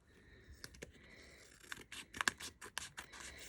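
Scissors snipping paper to cut a junk journal tag, a few quiet, irregular close-up cuts with faint scratchy rustling between them.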